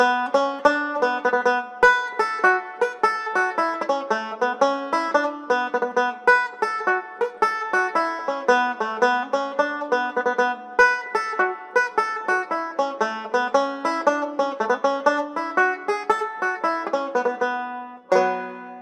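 A banjo plays the third part of the reel "The Musical Priest," a fast, bright melody with rapid plucked notes in a driving rhythm, solo and close, ending with a final strum.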